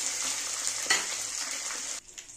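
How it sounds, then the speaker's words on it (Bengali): Katla fish heads fry in hot oil with a bright, steady hiss and crackle, a brief clink of a utensil partway through, before the sizzle suddenly drops to a faint bubble near the end. "দেখো মাছের মাথাগুলো ভাজা হয়ে গেছে"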